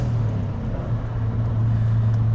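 A tuned Subaru Impreza WRX engine growls with a deep, steady drone, loud and close, with no pause.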